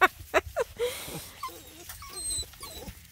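A pocket beagle whimpers and yips in a few short, high, close-up bursts, then lets out softer whining squeaks in a quiet room.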